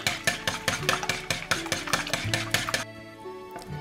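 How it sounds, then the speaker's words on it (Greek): Eggs are whisked by hand in a bowl for a sugar-free apple cake, giving a rapid, steady series of close rhythmic clinks and splashes that stop abruptly near the end. "Εδώ όμως δεν έχουμε ζάχαρη, άρα χτυπάμε τα αυγά μόνα τους."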